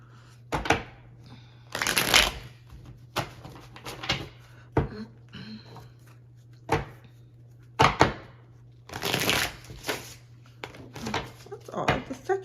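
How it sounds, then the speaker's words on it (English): An old, flexible tarot deck is shuffled in repeated quick riffling bursts with short pauses between, over a faint steady hum. "This deck usually shuffles well."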